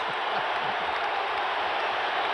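Basketball arena crowd at the 1989 NBA Finals, Lakers vs Pistons, roaring and applauding in a steady, dense wash of cheers and clapping that holds loud and continuous throughout.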